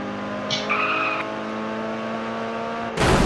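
A car in Garry's Mod DarkRP holds a steady engine drone with tire squeal layered in, then a sudden loud burst near the end.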